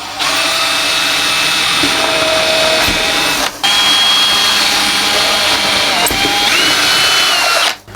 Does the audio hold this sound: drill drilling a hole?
yes